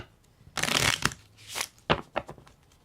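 Kabbalah Angel cards are handled and shuffled close up: papery riffles and swishes in irregular bursts, then several quick soft slaps and taps as cards are laid down, quiet overall, with no talking.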